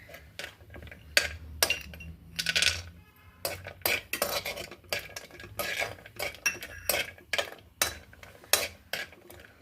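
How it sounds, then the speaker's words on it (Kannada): Almonds go into a pan for roasting over a low flame, bringing a rapid series of sharp clinks and scrapes from a utensil against the metal pan, close and irregular, with no talking. "ಈಗ ಬಾದಾಮಿ ಹಾಕೋಣ."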